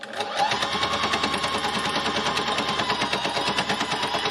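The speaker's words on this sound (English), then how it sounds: "this has got 12 sharp needles in, which needle felts the fabrics together" Steady rapid mechanical clatter of a 12-needle felting machine punching through fabric, a continuous fast rhythmic chatter close by.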